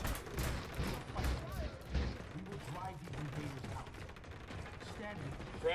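Enemy gunfire in Ghost Recon Wildlands, a busy stretch of rapid shots and bursts with impacts, moderately loud, mixed with voices talking over the action.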